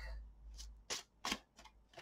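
A deck of tarot cards is shuffled by hand in a few quiet, separate riffling bursts, each a soft papery flutter, heard up close in a hushed room.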